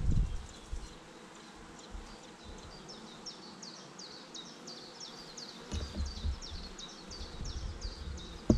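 Honey bees buzz around a nucleus hive as the frames are worked, a soft steady hum with repeated sharper passes of individual bees near the ear.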